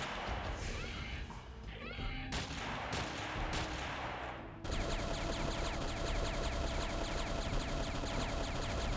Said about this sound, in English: That sounds like a grenade.